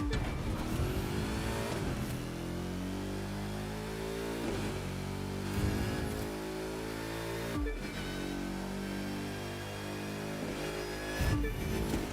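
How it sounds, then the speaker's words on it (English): Supercharged car engine in The Crew 2 racing game, a steady loud engine drone with supercharger whine and brief revving dips as gears shift, alone without talk. "Oh yeah, that is supercharged. I hear the whine in it."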